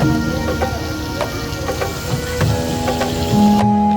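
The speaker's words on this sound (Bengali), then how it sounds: "দেখলাম তারা ভালোই ভাজতেছিল মাছগুলো" Hilsa fish fry in a pan at a riverside eatery at Mawa ghat, with a close, continuous crackling spatter and scattered sharper pops. A steady tone rises near the end.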